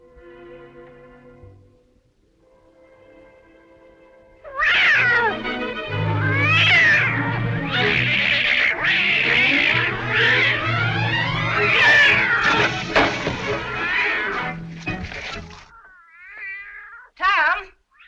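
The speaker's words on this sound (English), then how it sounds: "What on earth ails that cat?" A cat yowls and caterwauls in long, rising and falling wails, loud and close, after quieter speech at the start; the drawn-out cries continue with a final short yowl near the end.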